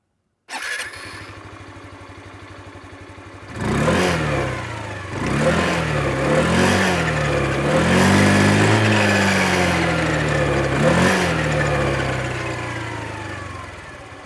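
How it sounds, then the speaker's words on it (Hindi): A Hero Xoom 125 scooter engine starts, then its exhaust revs up and down several times in short bursts before settling into a steady, loud idle. "आपको इसका एग्जॉस्ट नोट सुनाता हूँ"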